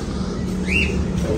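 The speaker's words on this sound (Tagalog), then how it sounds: "Yan, oh, may mga ibon." A single bird chirp sounds briefly outdoors over a steady low background rumble.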